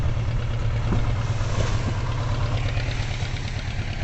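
A fishing boat's engine on the water drones steadily and loudly, a constant low throb filling the whole stretch with no gaps.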